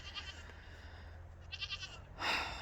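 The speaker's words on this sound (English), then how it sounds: "I think she's still calling for the other baby." A mother goat on a farm bleats faintly and distantly in a few short, repeated calls, as if calling for her kid. The quiet calls sit over low background noise.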